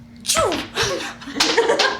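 A sneeze bursts out around a tabletop role-playing game session, a sharp nasal explosion followed by a second burst, close and loud with no talk during the clip.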